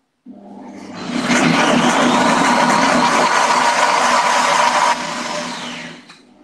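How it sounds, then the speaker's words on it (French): An electric blender whirs loudly and steadily as it purees rhubarb for a rhubarb tart, then drops to a lower drone before winding down. "je vais donner un petit coup de mixeur tout de suite pour accélérer un peu les choses"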